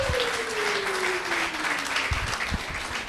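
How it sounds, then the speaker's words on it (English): Audience applause at a university induction ceremony, steady dense clapping filling the hall throughout, with a faint sustained tone sliding downward beneath it. "Shall we give her a round of applause?"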